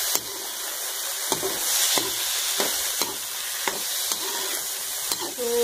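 Green peas fry with salt in hot oil in a pan, a steady close sizzle broken by regular scraping strokes of a spoon stirring them, roughly once a second.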